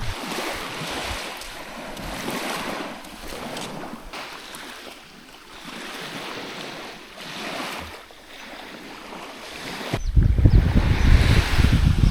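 Steady wind and surf wash continuously on Lonely Beach, Koh Rong, with a sudden louder, closer rumble of water and wind buffeting near the end.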